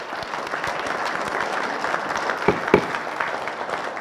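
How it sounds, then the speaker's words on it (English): Applause from the audience at a Cape Coral city council meeting, a dense, sustained burst of many hands clapping, with a few sharper, louder claps near the end. "Please hold your applause."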